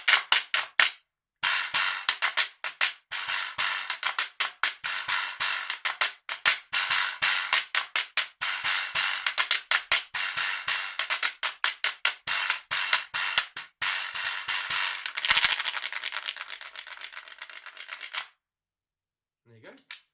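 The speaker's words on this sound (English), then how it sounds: "as you hit it, all the teeth shake. And then you can scrape it like a guiro as well." A donkey jawbone (quijada de burro) played as an Afro-Peruvian percussion instrument, struck repeatedly in a quick, steady rhythm so its loose teeth rattle. Bright clattering hits run close and loud for about eighteen seconds, with short pauses, and no talk over them.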